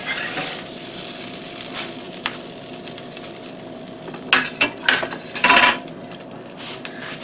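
Pork chops brown in a hot pan with a steady, loud sizzle and crackle. Several clinks and scrapes of a utensil against the pan rise briefly above the frying near the end.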